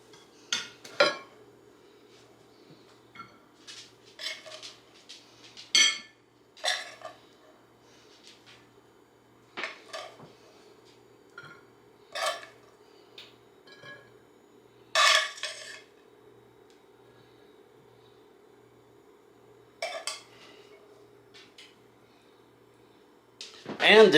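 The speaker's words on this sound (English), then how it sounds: "Now we're just going to scoop it onto the plates." Leftover KFC fried rice being scooped onto plates in a home kitchen, with scattered sharp clinks and scrapes of a utensil on dishes, quiet and intermittent with pauses between strokes.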